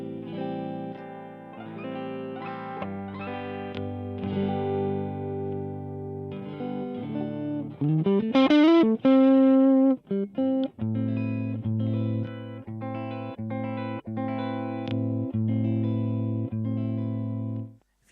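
Electric guitar fitted with humbucker and single-coil pickups, played alone with sustained chords and melodic notes, including a quick bending slide in the middle, loud and close.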